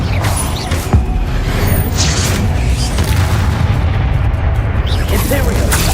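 Booming spell blasts of Confringo in Hogwarts Legacy, loud and continuous under constant battle noise with a voice shouting spells over the din.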